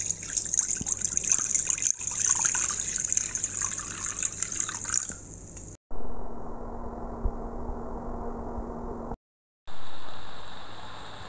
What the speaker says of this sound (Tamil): தேவையான தண்ணி சேர்த்து நல்லா குழைகிற அளவுக்கு பாயில் பண்ணிக்கலாம்.